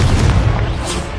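Incendio fire spell blast in Hogwarts Legacy combat, a loud, deep whooshing boom that stays full and rumbling across a brief burst, close and without speech.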